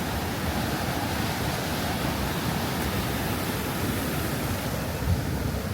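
Water rushes over the dam at the ruins of Great Falls Mill as a dense, steady roar, loud and constant throughout with no voices.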